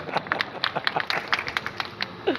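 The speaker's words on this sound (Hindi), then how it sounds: "अब आप तालियां बजा सकते हैं।" An audience at a Hindi poetry gathering in Guna claps, a loose patter of many hands at moderate volume, slightly distant, with a brief voice near the end.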